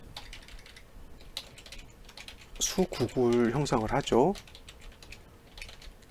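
Quick keyboard typing clicks scattered throughout, with a person talking briefly in the middle over the tapping.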